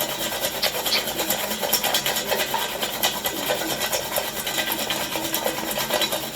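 French fries dusted with chaat masala are tossed in a bowl, producing a steady, dense rustling and scraping that continues evenly throughout without pause.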